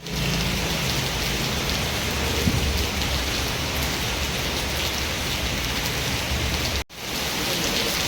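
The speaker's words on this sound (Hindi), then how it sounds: "मुंबई रा खाली वर्षा।" Heavy rain pours down in Mumbai, a dense, unbroken roar of water striking surfaces close by, steady and loud throughout with one brief low thump.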